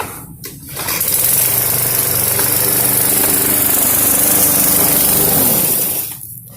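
A flood-damaged walk-behind lawn mower engine starts up and runs steadily, a loud, close, buzzing small-engine drone that holds for several seconds before cutting off.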